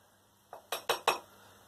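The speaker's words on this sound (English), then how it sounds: "I'm just going to skim some of this into this sterilised bowl." A metal utensil clinks four times against a sterilised bowl while wort is skimmed during home brewing of a DIPA, the sharp, close taps following quickly one after another.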